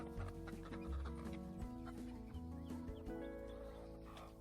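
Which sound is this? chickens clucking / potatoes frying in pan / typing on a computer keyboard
chickens clucking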